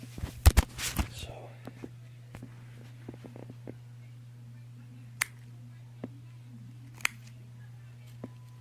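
Wire cutters snipping through PC power supply wires: a cluster of sharp clicks at first, then single crisp snips spaced a second or two apart over a steady low electrical hum.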